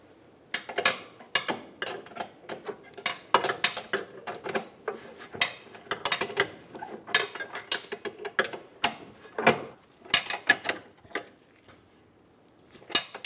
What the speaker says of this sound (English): Hold the bolt while we snug down the rear nut.